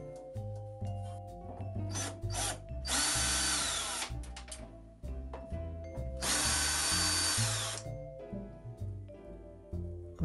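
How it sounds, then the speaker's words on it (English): Screws being driven out of an old 286 computer case with a power screwdriver, two sustained whirring bursts of a few seconds each, close and loud, with clicks and handling noise between them. "There is a lot of screws I need to remove"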